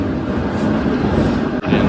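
A London Underground District line train carries riders from Acton Town after a change from the Piccadilly line, with a steady, loud, rumbling hum of wheels and carriage noise and a brief clunk near the end.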